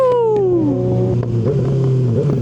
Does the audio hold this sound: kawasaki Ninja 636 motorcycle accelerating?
yes